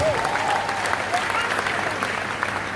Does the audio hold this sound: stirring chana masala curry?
no